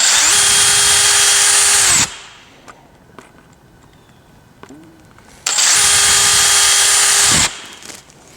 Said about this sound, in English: I got the smallest drill bit that I own, and we'll just make a couple pilot holes here.